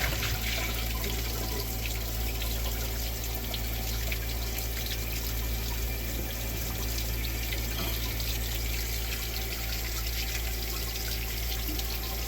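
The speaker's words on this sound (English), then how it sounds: "I'm going to give this a second flush once the tank fills up" A toilet tank refills after a flush with blue rags, giving a steady, fairly quiet rush and trickle of water that runs unbroken throughout.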